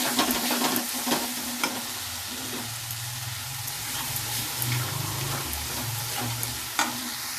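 A potato and cauliflower curry with cashew paste fries in oil while being stirred, a steady close sizzle with repeated spoon scrapes and knocks against the pan and a low hum beneath, no one talking.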